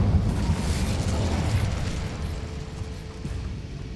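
Incendio fire spell cast in Hogwarts Legacy, a steady, loud fiery whoosh and crackle with dense rumbling bursts that gradually eases off.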